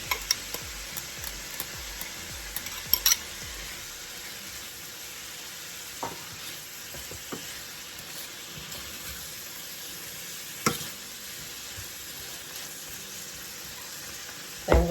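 Mixed vegetables with cabbage frying in a pan for Jamaican cabbage and saltfish, a steady soft hiss with a few faint clicks of a utensil, no talking.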